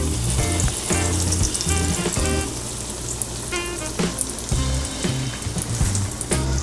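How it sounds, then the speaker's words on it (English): Chicken pieces fry in hot oil in a pan, giving a steady close sizzle with crackles and pops throughout and no talking. "now we're going to add the chicken in there. I am frying them one at a time"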